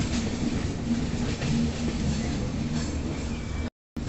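A train rumbles steadily along the rails on a winding route toward Araku, with a continuous low roar and faint rhythmic clatter, close by, cutting out abruptly near the end.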